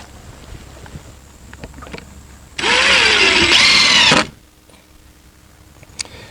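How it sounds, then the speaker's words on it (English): A power drill drives a 1 5/8 coated deck screw into a fence rail, a loud whirring burst of just under two seconds with its pitch sagging under load, set among quiet outdoor sounds. "the next part I find the most difficult, and that's putting these bottom screws in"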